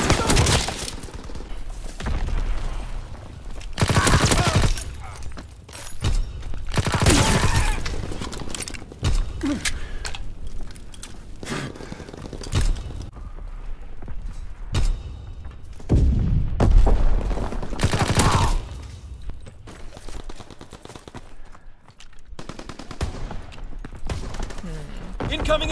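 Gunfire in the video game Call of Duty WW2, loud booming shots and bursts scattered across a battle soundscape with hoofbeat-like clatter, mixed with ongoing player talk.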